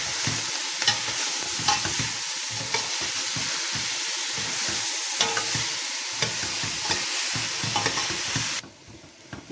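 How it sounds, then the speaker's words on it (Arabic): Chopped onion and meat frying in a pan, stirred steadily with a utensil; a continuous close sizzle runs throughout under repeated scraping stirs, then drops abruptly quieter near the end. "هننزل كده بالبصله بتاعتنا المتقطعه قطع صغيره، هننزل بيها كده. وهنفضل نقلب فيها كده لعند ما تاخد لون ذهبي كده وتدبل"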